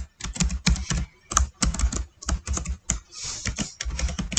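Typing code on a computer keyboard: quick clusters of crisp key clicks close up, with short pauses between bursts and no talking.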